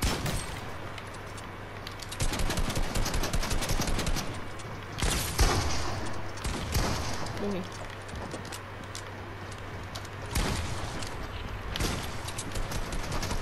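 Enemy gunfire in a video game, bursts of sharp shots and rapid automatic fire, some loud and close, others further off, scattered across the stretch under a player's excited talking.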